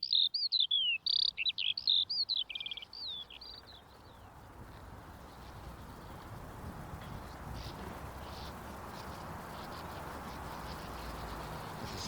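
Sand martins call in a burst of high, rapid twittering chirps during the first few seconds, close and clear, then fade out and leave a steady broadband outdoor wash with no voices.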